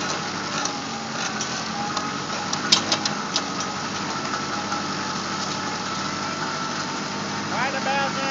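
A tractor's PTO drives a post hole digger at raised RPM, giving a steady, loud engine drone with mechanical vibration and a few sharper knocks partway through, continuous across the whole stretch.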